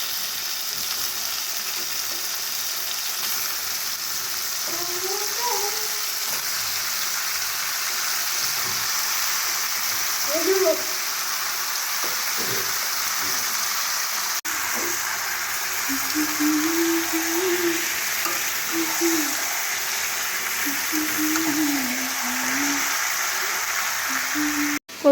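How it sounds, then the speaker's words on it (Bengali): Chicken pieces fry in a spiced masala with a steady, even sizzle that continues throughout, while a voice murmurs now and then in the background. "এবারে মাংসগুলো দিয়ে দেবো।"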